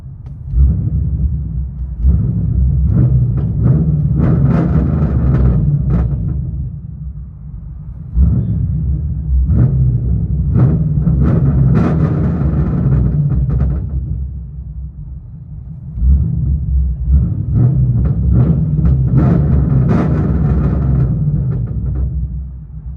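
Deep exhaust rumble from a Chevy SS 6.2L V8 with long tube headers and straight pipes, heard from inside the car, rising in three long surging revs separated by idling lulls, loud and bassy.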